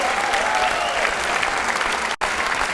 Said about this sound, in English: And the CCI crowd comes alive again